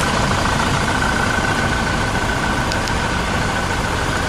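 A 2018 Toyota Fortuner 2.8 G engine idles at a steady, even hum. It stays close and constant throughout with no speech.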